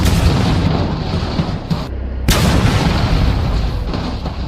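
Heavy booming shots in the BeamNG.drive video game, a loud blast near the start and another sharp hit midway, with rumbling noise sustained between them and no speech.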